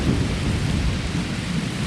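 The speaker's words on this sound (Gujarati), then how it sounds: "આ વરસાદ અને વંટોળ સાથે છે." A thunderstorm with heavy rain and strong wind makes a dense, steady, loud roar, continuous and close, with no voices.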